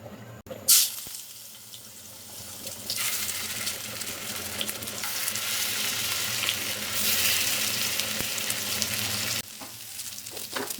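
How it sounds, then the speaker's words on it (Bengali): Pieces of a large 7 kg fish sizzle and crackle loudly in a hot frying pan after a sharp drop-in, a steady frying hiss that swells midway and continues without speech. "ফ্রাই প্যান গরম হয়ে গেছে দিয়ে দেবো মাছটা"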